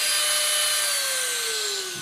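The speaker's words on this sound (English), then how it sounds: "Wait till the Dremel comes to a complete stop before you set it down." A Dremel rotary tool winds down after being switched off during an art surface-shaping technique, its high whine sliding steadily lower in pitch over two seconds, close and alone.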